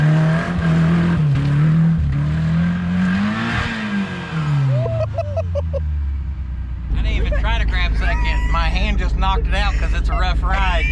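A 1981 Ford Courier work truck engine revs hard, climbing and falling in loud rising pulls, then a rough roar sets in while people talk and shout excitedly over it.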